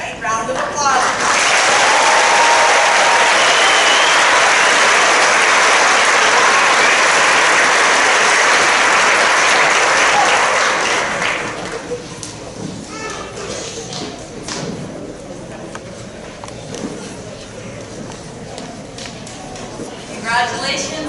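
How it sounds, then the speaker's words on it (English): Loud, dense applause fills the hall at an eighth grade continuation ceremony for about ten seconds, then drops to scattered lighter clapping and murmuring voices, with a brief renewed burst at the end. "Ingrid Lazo Argueta, Stephanie Leibinger, all right, round of applause."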